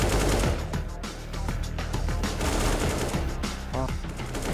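AK rifle fire in CS:GO on the Overpass map during a BLAST Premier Spring Showdown match, loud bursts of rapid shots layered with other game sounds and steady background noise.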